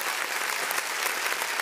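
Steady dense clapping from a crowd at a live music showcase, played as an added sound effect, loud and continuous throughout with no voices over it.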